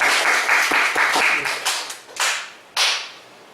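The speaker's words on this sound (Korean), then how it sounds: "우리 하나님 앞에 감사로 박수로 예배를 시작하겠습니다" A church congregation claps together at the start of worship, loud and close, a dense burst of rhythmic applause that thins into a few scattered, decaying claps.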